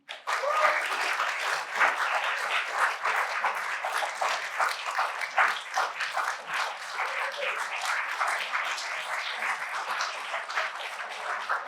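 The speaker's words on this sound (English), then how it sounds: "I just want to take another minute to applaud for our amazing 2024 honorees." An audience at an awards ceremony for the 2024 Brookline Women of the Year applauds honorees, sustained dense clapping from a full room that continues steadily without a break.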